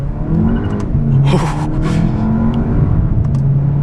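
A 2023 Volkswagen Jetta GLI accelerating on the autobahn, engine note climbing then dipping briefly at a gear change before rising again, loud and heard from inside the cabin with no talking.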